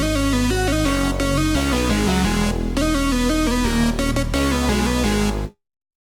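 A synth lead and synth bass play together in an electronic mix, the bright melodic lead riding over a steady low bass line, loud and continuous for about five seconds before cutting to silence.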